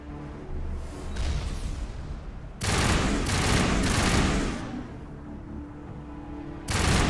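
Rocket fire and explosive blasts in Mass Effect Legendary Edition: a low rumbling battle hum builds, then two loud, broad roaring bursts erupt, the first lasting about two seconds and the second starting just before the end.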